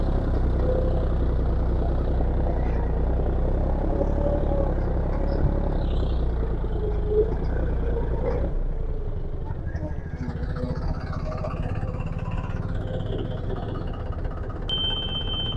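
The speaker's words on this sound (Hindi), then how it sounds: "आप देख सकते हो ना ही ट्रैक्टर में ज्यादा लोड आ रहा है और ना ही ट्रैक्टर दब रहा है।" A John Deere tractor engine runs steadily while pulling a hydraulic plow, a loud continuous low rumble with a slight drop in tone partway through and faint whirring on top.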